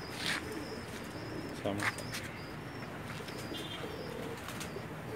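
A pair of Pakistani pigeons in Jeddah coo faintly and flap briefly amid steady background noise, with someone talking over them throughout.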